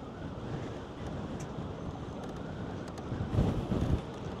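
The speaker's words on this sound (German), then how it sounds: "So, und der Wind ist ganz schön heftig, muss ich sagen. Der zieht und zerrt ganz schön." Strong coastal wind buffeting the microphone on Gran Canaria near Maspalomas, a continuous loud rumbling roar that swells into heavier gusts near the end, with no voices.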